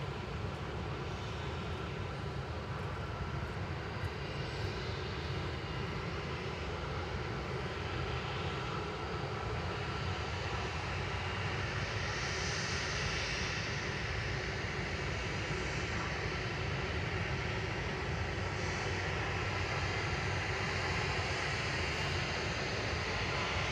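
Airbus A380 jet airliner engines at Manchester Airport as the aircraft moves across the airfield, a long, continuous broadband roar with slowly shifting whine, steady and fairly loud throughout with no voices.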